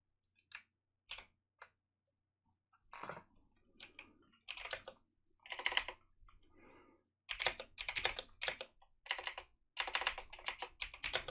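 Typing on a computer keyboard comes in irregular bursts of close, crisp key clicks separated by short pauses, growing into faster runs of keystrokes toward the end.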